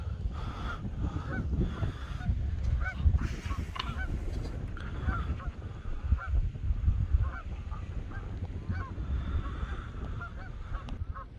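Geese honk repeatedly outdoors at moderate distance after being chased by a dog, a steady chorus of calls with no one talking.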